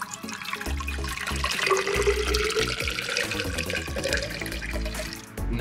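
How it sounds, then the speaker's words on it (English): Tap water runs steadily into a plastic straw dispenser, filling it about halfway, with a sustained splashing flow that rises and churns close by for several seconds before cutting off. "I'm gonna fill this part about halfway with water."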